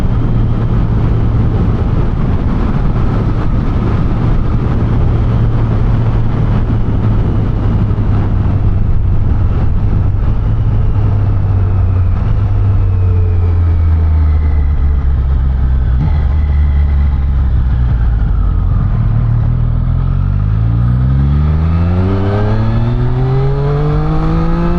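Triumph Street Triple 765 RS motorcycle ridden on a road, engine loud and close with rising and falling revs as it shifts smoothly through gears with the quickshifter, steady wind noise throughout.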